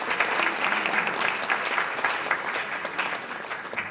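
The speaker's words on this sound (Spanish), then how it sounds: "Fuertes los aplausos." Loud sustained applause from an audience at a congressional conference and diploma ceremony, dense clapping with sharp individual claps standing out, continuous throughout with no speech.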